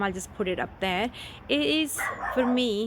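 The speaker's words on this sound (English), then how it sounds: "oh, that's the neighbor's dog." A neighbor's dog barks and yips repeatedly in short, pitched bursts nearby, overlapping a person talking quietly.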